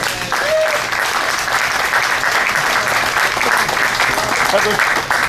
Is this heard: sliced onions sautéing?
no